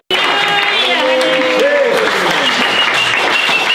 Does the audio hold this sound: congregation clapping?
yes